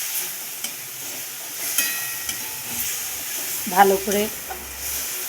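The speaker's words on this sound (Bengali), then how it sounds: "কষিয়ে নিচ্ছি একটু আমটাকে" Mango pieces sauté with garlic in a hot pan, a steady close sizzle and hiss with scraping stirring throughout, and someone speaks briefly over it.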